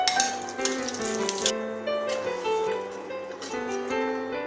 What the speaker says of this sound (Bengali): একে একে মাছগুলো ভেজে নেবো।